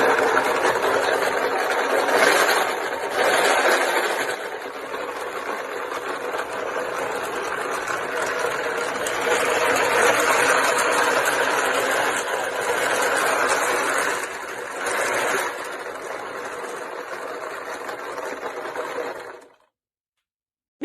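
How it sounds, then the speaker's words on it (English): A fully functional engine built entirely of wood runs with a steady, busy mechanical whir and rattle for a long stretch, then cuts off suddenly into silence. "This engine is made entirely out of wood and is fully functional."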